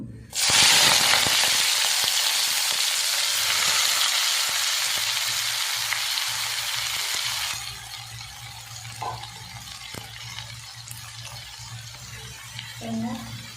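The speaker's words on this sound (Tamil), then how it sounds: "இது வெங்காயத்தாள் எடுத்துருக்கேன் இதை அப்படியே எண்ணெயில் போட்டுக்கலாம்" Spring onions dropped into hot oil crackle in a loud burst of sizzling at the start, then settle to a quieter, steady frying hiss, with a few faint knocks near the end.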